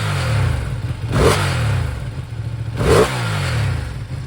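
A Ducati Panigale V2 sport motorcycle engine runs close by with a steady mid-range drone, rising in two short revs, each followed by a clattering fall back to idle.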